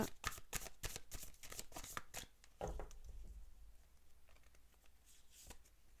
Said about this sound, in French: Alors, on tire une carte.